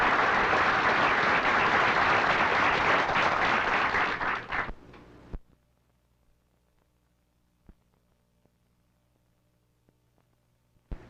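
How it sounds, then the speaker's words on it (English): Audience applause for two bowlers, Fred Lening and Ronnie Winger, at a televised championship bowling match: loud, dense clapping for about five seconds that cuts off abruptly, followed by near silence with a few faint knocks. "Fred Lening, Ronnie Winger, let's give them both a nice hand, boys"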